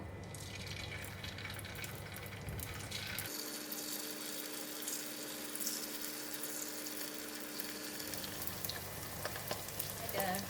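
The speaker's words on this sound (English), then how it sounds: "the oil is hot, so I'm going to put in the tofu" Tofu frying in hot oil in a pan for a black pepper stir-fry, a steady close sizzle and crackle running throughout, with a deeper rumble dropping out midway, no talking.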